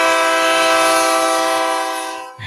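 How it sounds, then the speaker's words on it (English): A train horn blasts as a sound effect in a Mississippi radio studio, a steady harmonic chord held loud for about two seconds before fading and cutting off, with no talk over it. "Here comes the train."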